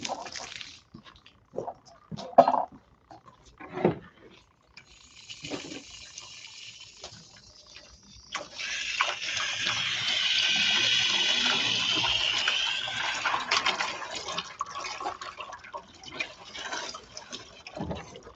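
Fresh water sprays hard to rinse out a gold sluice and its mats after a fifty-pound run. Scattered splashes and drips come first, then a sustained loud hiss of spray for the latter half.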